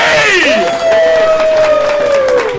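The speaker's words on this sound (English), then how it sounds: "Let's get some applause going." An outdoor festival crowd at Bushfest 2022 claps and cheers for the next act. Loud, continuous applause mixes with whoops and shouts, and a long rising whistle-like tone runs through the middle.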